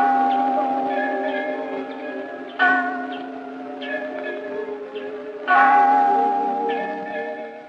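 Tower bells, a father bell and a mother-and-child bell, ring out to wake children at 5 a.m. at a children's institution. Three loud, resonant strikes each decay slowly into a long hum.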